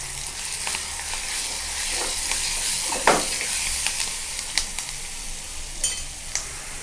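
Cauliflower and its leaves frying in a pan with red chili powder and spices while being stirred, a loud close sizzle throughout with a few scraping strokes and clicks of the spatula, no voices.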